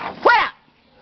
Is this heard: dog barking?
yes